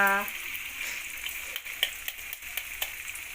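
Eggs frying in hot masala for egg bhurji, giving a steady, fairly quiet crackling sizzle with a few sharper pops and light clicks scattered through, close by and with no one talking.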